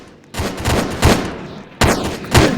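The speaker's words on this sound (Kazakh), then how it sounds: "атыс ойнап отырмыз" Rapid bursts of gunfire from a shooting video game crackle loudly in two dense volleys, close and harsh, with no speech over them.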